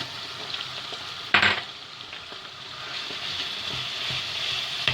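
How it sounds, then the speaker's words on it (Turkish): Minced meat drops into a pan of fried onions and tomato paste, setting off a sudden burst of sizzling that settles into a steady frying hiss, with faint stirring and clinks of utensils and no talk. "Şimdi şöyle kıymamı atıyorum içine."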